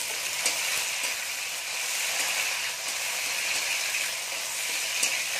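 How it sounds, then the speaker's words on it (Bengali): Chopped tomato lands in a pan of fried onions for chicken paturi and sizzles, a continuous close frying hiss with occasional stirring scrapes and no talking. "এখন আমরা এর মধ্যে দিয়ে দেবো টমেটো কুচি।"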